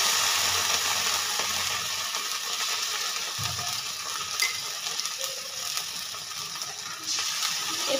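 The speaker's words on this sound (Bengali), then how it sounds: "দিয়ে দিচ্ছি আদা রসুন বাটা" Ginger garlic paste going into a sizzling pan of oil for a carp and potato curry, a steady frying hiss with occasional spoon stirs and scrapes.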